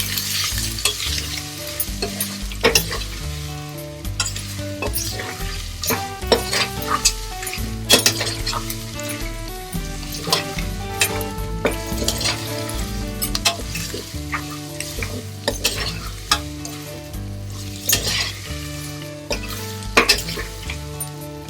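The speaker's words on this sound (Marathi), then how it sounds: "छान परतून घ्यायचं." Moong dal khichdi made with split green gram, skin on, is sautéed in a pan, with steady frying sizzle and repeated scraping and clinking of a spoon against the metal, close and continuous throughout with no talking.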